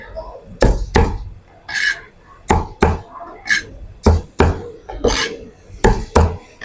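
A knife chops through a Holland onion on a cutting board in a home kitchen, giving sharp, close thuds in an uneven rhythm of about a dozen strokes, clear and alone.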